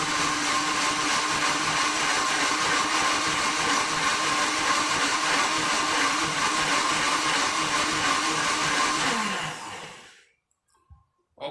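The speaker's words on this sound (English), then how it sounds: "When you're blending, you have to give it a break so that you do not burn out the blender." A Silver Crest blender blends a smoothie with a loud, steady motor whir and churning for about ten seconds, then cuts off abruptly, leaving a few faint clicks.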